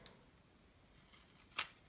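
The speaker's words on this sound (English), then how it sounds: "So I'm just going to grab my scissors" A single sharp snip of scissors through paper, brief and crisp, against a quiet background.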